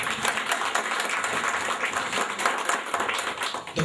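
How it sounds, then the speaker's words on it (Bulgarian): A congregation claps for a man during a church prayer, a steady, dense patter of many hands sustained evenly throughout at moderate volume. "нека му ръкопляскаме"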